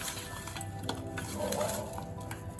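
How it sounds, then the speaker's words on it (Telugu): Chicken pieces being mixed with coriander powder in a bowl for chicken pakodi, giving soft wet squelches and light clinks from a utensil against the dish, close and quiet, with no talking. "ఈ రెండు బాగా మిక్స్ చేసుకోవాలి."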